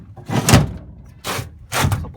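Storage drawers in a 2005 Ford F350 truck slide and thump three times, each a short, close rumbling slide with a gap between them.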